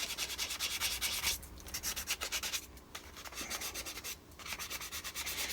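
A wooden yarn bowl being sanded at 400 grit, a steady, fairly quiet rubbing hiss that comes in rhythmic strokes, broken by two brief pauses where the abrasive lifts away.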